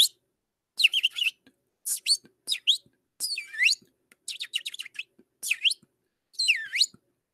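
A bird sings a run of bright, high chirps and warbling phrases in short bursts separated by brief pauses, clear and close with no talking.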